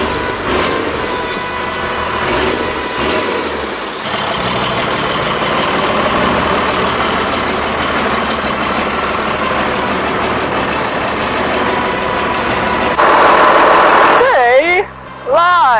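A 12-valve Cummins 6BT diesel swapped into a Chevy C10 pickup with a 12-foot exhaust stack idles steadily and loud throughout, a constant low rumble with people talking over it.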